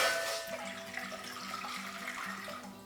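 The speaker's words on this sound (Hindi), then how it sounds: "पानी डालें।" Water pours steadily from a height into a pot on the stove, making a continuous soft splashing rush for sugar syrup, quiet and close with no voices.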